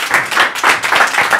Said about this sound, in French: Je vous demande un tonnerre d'applaudissements pour Christophe Ambre.